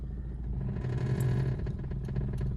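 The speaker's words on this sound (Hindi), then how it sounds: "इंजन का साउंड सुनो, इंजन क्या कह रहा है।" A car engine idles and labours in a low, steady rumble with slight rises while a learner works the clutch, close and moderately loud with no talking.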